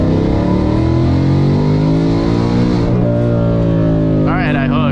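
A tuned car launches hard, its engine roaring loud and close as the revs climb steadily, with an upshift partway through and the pitch rising again afterward.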